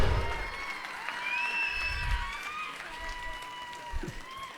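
Applause from an audience at a political rally, a steady wash of clapping under crowd voices and chatter throughout.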